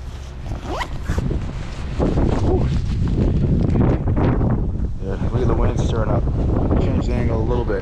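Strong gusty wind on Whiteface Mountain buffets the microphone in a loud, rumbling roar, with a skier speaking and breathing heavily close by.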